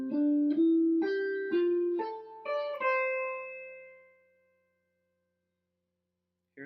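A guitar plays the third phrase of a song as a rising line of about eight plucked notes, the last one ringing out and fading into silence, with a brief sound right at the end.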